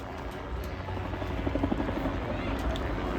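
An RAF helicopter descends in autorotation at the Blackpool airshow, heard as a steady, moderate rotor and engine roar with faint rhythmic blade chop from some distance, with a commentator talking over it.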